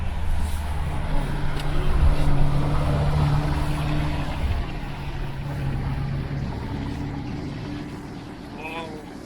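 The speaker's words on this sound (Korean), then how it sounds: "배기음을 한번 들려드릴게요." A Maserati Levante GTS drives along a winding road, its exhaust a steady low drone under wind and road noise, fairly close and consistent throughout.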